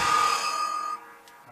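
A metallic gong-like ring from a Mortal Kombat arcade cabinet, a bright shimmering tone with dense overtones that sustains loudly for about a second, then cuts off, leaving a faint decaying tail.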